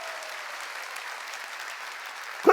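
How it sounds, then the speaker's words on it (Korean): A church congregation at a summer mountain revival meeting clapping together, a steady dense applause held at an even level throughout, with a short voice at the very end. "박수 치려면 세게 치라고"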